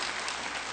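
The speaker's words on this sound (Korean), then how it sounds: "박수를 한번 칩시다 우리가." A church congregation claps together in a brief burst of steady, dense applause filling the room.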